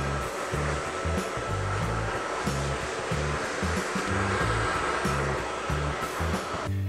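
A hair dryer blows steadily while hair is finished with a brush, its constant airy whoosh broken by regular pulsing dips as the brush and dryer move through the hair, with no voices.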